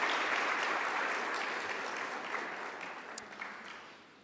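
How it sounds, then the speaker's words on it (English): Audience at a petroleum policy event gives the mayor a sustained round of applause, steady dense clapping that gradually tapers toward the end, with no talking over it. "I think the mayor deserves another round of applause"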